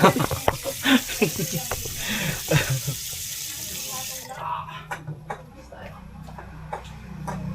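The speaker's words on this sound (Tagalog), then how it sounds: "Masarap maghugas ng pinggan." Running tap water splashes into a sink during dishwashing, loud at first with clattering and talk, then quieter with a steady trickle and occasional clinks.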